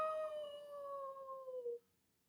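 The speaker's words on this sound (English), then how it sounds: "beside the bog stood a dog who was howling" A dog howls in a story sound effect, one long sustained wavering howl that slides slowly downward and then cuts off, fairly loud and alone with no talk.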